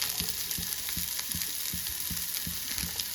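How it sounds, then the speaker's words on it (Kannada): Chopped vegetables fry in a pan with a steady loud sizzle, broken by regular soft scrapes and knocks of stirring roughly every half second, close and without talk. "ಅದಾದಮೇಲೆ ನಾವು ಏನೆಲ್ಲ ವೆಜಿಟೇಬಲ್ಸ್ ಕಟ್ ಮಾಡ್ಕೊಂಡಿವೋ ಅದೆಲ್ಲದನ್ನು ಹಾಕ್ಕೊಂಡು ಫ್ರೈ ಮಾಡ್ಕೊಳ್ಳೋದು"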